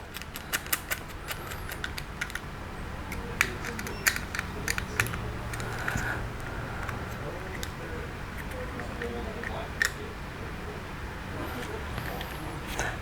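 Small casing screws driven into the plastic body of a Tamiya Frog RC car, giving sparse light clicks and faint ratcheting close by, while a person talks over them.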